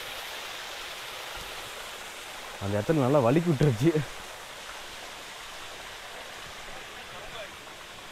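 Steady broadband rush of the Maharajakadai Mathi waterfall near Krishnagiri, continuous and fairly close, with a brief stretch of speech over it in the middle.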